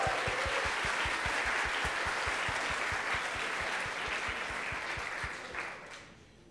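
Sustained loud applause at the closing ceremony of a Latin American programming championship as a team stands to be recognized, many hands clapping densely under a steady low thump, fading toward the end.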